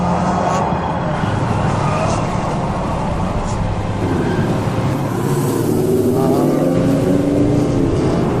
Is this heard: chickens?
no